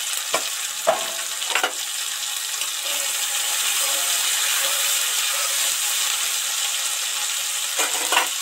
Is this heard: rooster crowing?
no